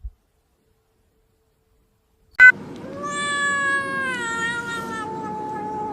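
A cat lets out a single long, drawn-out meow that wavers in pitch. It follows a faint click and a couple of seconds of silence, and the meow is near and clear with no talking.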